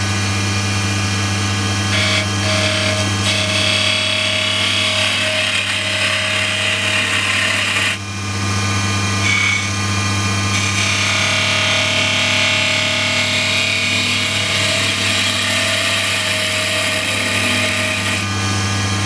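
A wood lathe spins a small spindle-turned spinning top while a gouge rubs its bevel and cuts, a loud, continuous motor drone with rough cutting texture and one brief dip.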